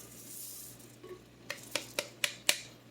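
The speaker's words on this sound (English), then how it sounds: "now I'm going to dump in my lentils" Lentils poured into an aluminum pot and stirred, a soft pouring hiss followed by four or five sharp, evenly spaced scraping clinks of a utensil against the metal, quiet and close.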